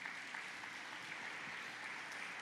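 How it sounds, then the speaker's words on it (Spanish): A church congregation applauds, a steady, dense wash of faint, distant clapping that holds evenly throughout with no voices on top. "Dale el aplauso si se lo vas a dar."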